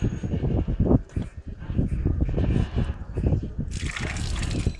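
Water runs and splashes from a push-button public fountain onto worn stone in the old town of Albarracín, Spain, a steady trickle under voices of people talking nearby, with a brighter gush near the end.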